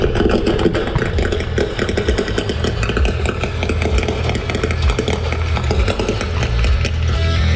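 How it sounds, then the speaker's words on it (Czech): Eurojet engines of a fighter jet at a NATO Days air show in Ostrava, making a loud, continuous rough roar that holds steady from start to finish. "Jedná se o opravdové motory typu Eurojet a právě díky těmto motorům tyto letouny vydávají ten typický burácivý zvuk."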